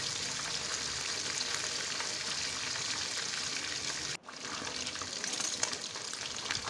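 Fish sizzling steadily in hot oil in a pan, a dense, continuous frying hiss with a brief drop near the end before the crackle resumes.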